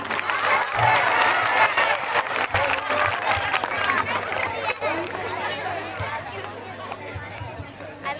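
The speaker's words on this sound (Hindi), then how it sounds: "जोरदार तालियां स्वागत कीजिए" A crowd at a school cultural program applauds to welcome the president, a continuous rustle of clapping mixed with chatter and murmuring voices throughout.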